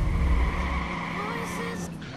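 Car engine drone in the video game Watch Dogs, a loud low rumble that eases slightly as the car drives on, with a couple of brief faint higher squeals near the end that may be tires skidding.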